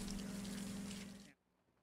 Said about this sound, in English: rinse it with a hose using fresh, gently running water